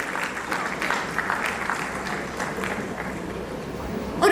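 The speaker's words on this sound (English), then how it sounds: "Can we have a round of applause for our next panelist, Mr. Prashant Kutti" An audience at a business panel event applauds as the next panelist is introduced, with steady moderate clapping for several seconds and some talk mixed in.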